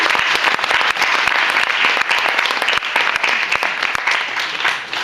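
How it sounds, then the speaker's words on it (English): Sustained applause from a large student audience at a New South Wales maths competition grand champion round, dense steady clapping filling the room throughout, loud and close with no voices over it. "So give these guys another big round of applause."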